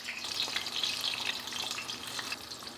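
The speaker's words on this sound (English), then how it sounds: "They'll sizzle right away because they have a lot of liquid in them." Lemons fry in a hot pan, giving a steady, bright, crackling sizzle heard close up with no voices.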